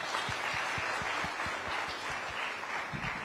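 Audience applause at a business summit in Madhya Pradesh, a steady dense patter of many hands clapping throughout, fairly close and continuous with no talk over it.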